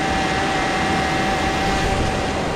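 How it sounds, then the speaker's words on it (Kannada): A camera drone flies over Suratkal beach in Karnataka, its motors making a steady, loud, unbroken whine over a broad rushing wind and surf noise. "ಡ್ರೋನ್ ಹಾರಿಸ್ತಾ ಇದ್ದೀನಿ"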